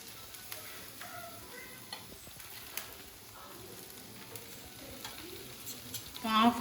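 Chicken grilling on an electric barbecue grill at home, a soft continuous sizzle with scattered faint ticks and pops, growing a little louder at the very end.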